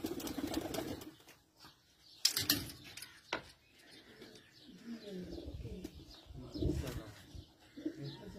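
Flying and breeder pigeons on a rooftop coo softly, mixed with light chirps and scattered background noise, all faint and fairly distant.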